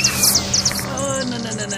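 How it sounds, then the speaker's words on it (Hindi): A cartoon bird screeches with a few sharp, high chirping cries over a short stretch, loud and close, followed by a fading tonal whine. "चिड़िया की चीख सुनते ही मैं डगमगा गया"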